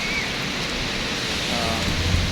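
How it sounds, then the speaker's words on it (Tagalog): Heavy rain pours during a storm in Dubai, a steady, dense hiss heard from inside a hotel, with faint voices and a low rumble toward the end. "Grabe, lakas ng ulan, no?"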